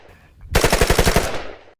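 A rapid burst of about eight sharp gunshots in quick succession, loud and close, rising out of a quiet low hum and ending in a short fading tail.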